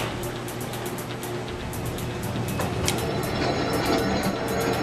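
Subway train ride in a train simulator on a trip to Brooklyn: a steady, loud rumbling rail roar with faint rhythmic clicks and a thin whine rising partway through, no talk.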